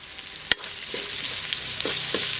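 Curry leaves frying in hot oil with tomatoes, a close, even sizzle with one sharp clack and a few soft scrapes of stirring.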